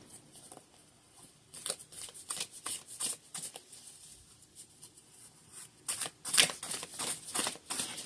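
Oracle cards being shuffled and drawn, a run of soft papery riffles and slides in quick irregular bursts, growing busier and louder toward the end, with no talk.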